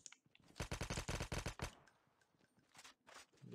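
A rapid burst of automatic gunfire in Call of Duty Mobile battle royale rattles off in quick succession, then fades into quieter scattered shots and ambient noise.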